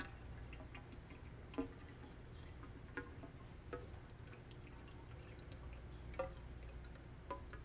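Water is poured into a tube held inside a bucket, making a faint, steady trickle broken by a few brief plinks and drips.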